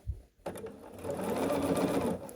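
A sewing machine stitches a scrappy sawtooth star quilt block, its needle running in a steady fast whirring burst after a brief start, close and loud with no talking.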